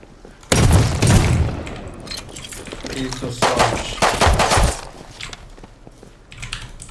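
Gunfire in the survival game Rust comes as loud, sharp bursts of automatic shots with a couple of heavier bangs, cut by quieter gaps while players talk over the action.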